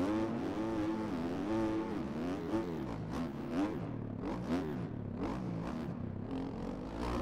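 A KTM motocross bike in MX Bikes revs through rising and falling gear changes on a supercross track, its engine buzzing loud and close the whole time, with no talk.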